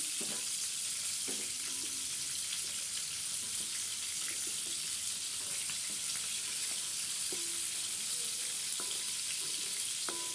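Macaroni in a pot being stirred with salt and turmeric: a constant hiss of boiling water fills the background while light scrapes and knocks of a spoon against the pot come through at intervals, no talking.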